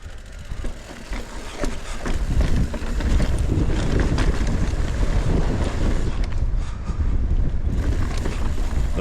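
Strong wind roars and buffets the microphone during a mountain bike ride on a Sedona trail. The rush is loud and constant, broken only by small gusty surges, and no one talks.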